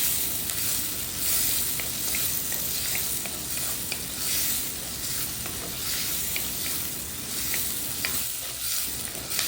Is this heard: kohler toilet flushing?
no